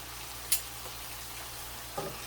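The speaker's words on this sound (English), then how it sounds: "We're grilling our shrimp off. We're searing them off." Shrimp sear in a hot pan with a soft, steady sizzle, fairly quiet and close, broken by two brief clinks or pops of movement and no talking.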